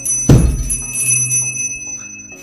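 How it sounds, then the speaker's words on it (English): One loud bell strikes close by in a bicycle recycling workshop, then its bright metallic tone rings on and slowly fades over a couple of seconds. "Oh, that bell."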